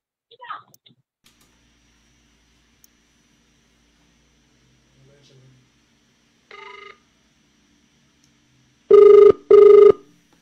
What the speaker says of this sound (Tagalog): atong tawagan pagbalik si Brad Stalwart